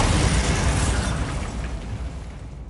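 A Bombarda spell explosion in the Hogwarts Legacy video game, a loud booming blast that hits at once and then slowly decays into a fading rumble.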